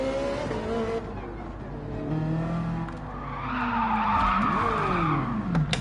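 Car tires skid and squeal under a handbrake turn in Gran Turismo 7, the engine droning steadily and rising in pitch before a sharp squeal near the end, loud and continuous.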